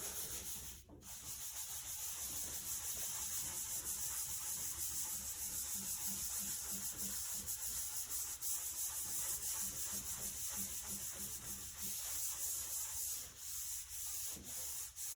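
A pad rubs oil into a wooden surface, a steady soft sanding-like swish that runs continuously at moderate loudness with slight rhythmic variation, with no talk.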